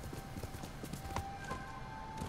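Horse hooves clip-clop steadily in the Ghost of Tsushima video game, a quick rhythmic string of soft thuds at moderate distance over a faint ambient bed, with a brief whinny-like tone partway through.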